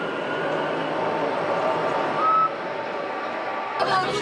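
The rack railway train climbing up to the Puy de Dôme volcano in Auvergne, France, runs with a steady broad rumble and rolling hum heard from inside the carriage, with a brief tonal whine partway through.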